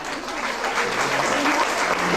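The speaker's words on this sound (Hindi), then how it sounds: "आप जो है भरपूर तालियां बजाएं" Audience applause at a Pakistani Independence Day celebration, steady and fairly loud as a shield presentation begins, with faint voices mixed in.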